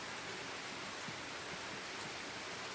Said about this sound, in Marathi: मी आता रेकॉर्डिंग करतो आहे पण पाऊस खूप चालू लागलेला आहे